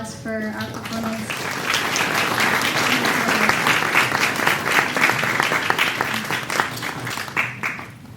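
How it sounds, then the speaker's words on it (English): A live audience applauds after a sitar and tabla performance, the clapping swelling quickly into a dense, sustained round that carries on for several seconds before tapering slightly, with a voice briefly audible at the start. "So please give another round of applause for our performance."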